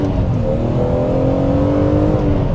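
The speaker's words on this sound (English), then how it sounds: "That noise instantly recognisable to me. I've driven so many S54 engined E36 M3s." A BMW Z3M Coupe with an S54 engine revs hard, its loud, close engine note climbing steadily in pitch over a couple of seconds.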